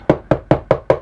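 Five sharp, evenly spaced knocks on solid wood kitchen cabinet doors inside a 1996 Kit Cordova RV, each a close, resonant hollow thump in quick steady rhythm.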